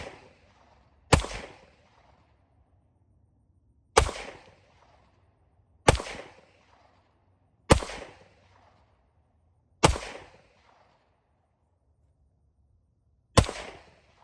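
A CZ75B Omega pistol firing 124 grain +P rounds outdoors at a range, six sharp, loud single shots spaced a couple of seconds apart, each with a short decaying echo, no talking.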